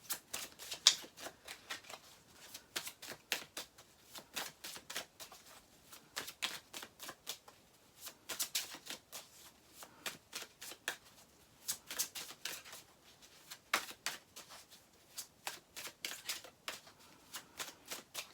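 Tarot cards being shuffled by hand: a long run of crisp riffling flutters and soft slaps, bursting in quick irregular clusters at close range, with no talking.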